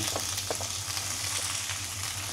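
Chayote is frying in a pan with a steady, dense sizzle and crackle that holds at an even level throughout, with a low hum underneath.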